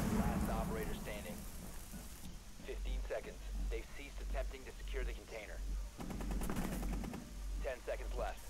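Gunfire in Rainbow Six Siege, rapid bursts and shots crackling through a busy game mix, with a voice talking over parts.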